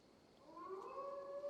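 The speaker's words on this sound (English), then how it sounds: "that is not the sound of a dog, Ira. That is a wolf." Video game wolf howling from Assassin's Creed Valhalla, a faint, distant rising howl with sustained tonal pitch that swells after a brief quiet start.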